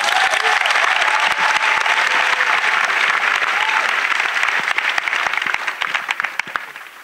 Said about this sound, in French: Acclamation no à Jésus-Christ.